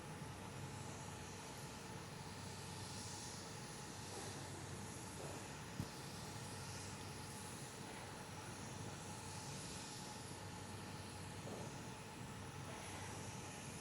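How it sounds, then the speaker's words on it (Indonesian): An airplane carrying the Australian delegation arrives at the G20 summit in Bali, heard as a steady broadband engine roar and rushing wind that holds constant and fairly distant throughout, with no voices. "beberapa saat lalu Anda menyaksikan kedatangan pesawat yang merupakan kedatangan dari delegasi Australia, yaitu Perdana Menteri Australia Antonius"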